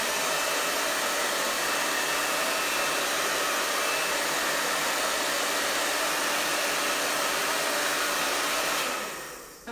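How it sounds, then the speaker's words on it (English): Hair dryer blowing hot air onto a flexible wood moulding on furniture, a loud, steady whooshing roar that holds constant and cuts off abruptly near the end. "I'm going to hit it again with the hairdryer"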